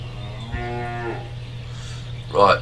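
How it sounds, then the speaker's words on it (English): A cow in the video game Force of Nature gives a single clear moo lasting about half a second, close and loud over a steady low hum, followed by a short rustling burst. "Right, so we've got a cow."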